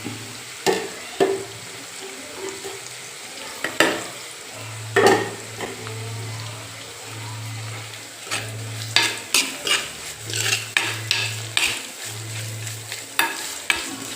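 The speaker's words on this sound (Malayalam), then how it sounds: "ഇനി ഇതിനകത്തേക്ക് നമ്മൾ അരിഞ്ഞ് വെച്ച ഒരു സവോളയാണ് അരിഞ്ഞ് വെച്ചിട്ടുണ്ടായിരുന്നു കേട്ടോ, അത് ചേർത്ത് കൊടുക്കാം" Chopped onion sizzling steadily as it sautés in a hot pan, with a spoon scraping and stirring in irregular bursts throughout, close and moderately loud, no voices.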